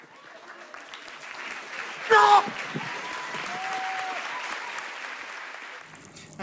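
After a comedy sketch at a live stage show, a crowd keeps up a sustained wash of clapping. A voice shouts once near the start, and a few other voices come through under the applause.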